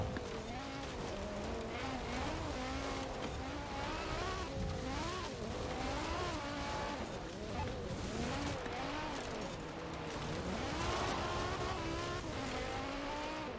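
A BMW M3 E30 rally car in Forza Horizon 4 roars steadily on an off-road course, its engine note rising and falling loudly and close throughout, with tire noise mixed in.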